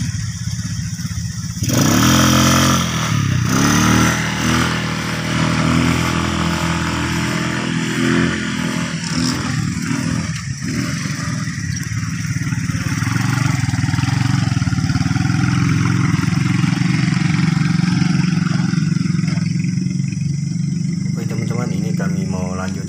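A motorcycle engine runs loudly and close on a trip toward the upper reaches of a river in Wajo, with a revving rise early on, then a sustained droning hum, while people talk over it.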